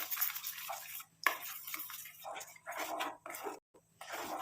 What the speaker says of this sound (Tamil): கொஞ்சம் நல்லா இந்த மாதிரி மிக்ஸ் பண்ணி விட்டுக்கிட்டே இருங்க.